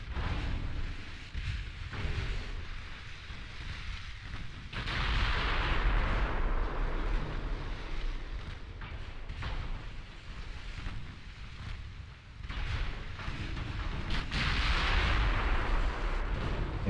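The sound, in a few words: 14-inch battleship guns firing in Ultimate Admiral Dreadnoughts video game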